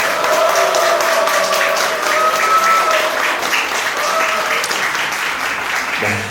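Wedding guests at a ceremony at Apelgamo Gwanghwamun in Seoul clap loudly and cheer together, a full, steady roar of applause filling the hall and holding for several seconds before tapering slightly.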